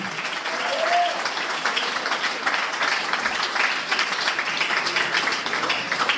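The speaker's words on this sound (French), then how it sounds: "S'il vous reste quelques applaudissements, on va en donner à Jésus" Steady applause from a church congregation at a Sunday-style service in Granby, dense clapping and a few voices mixed in, holding at an even level throughout.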